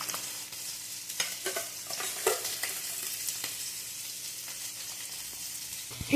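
Soft bubbling and sizzling from a pot of saamai (little millet) rice porridge boiling on the stove, with a few scattered clinks and scrapes; steady and fairly quiet, no voices.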